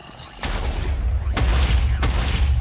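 A modded Minecraft mining gun fires explosions, three sharp booms spaced about a second apart over a continuous low rumble, loud and close.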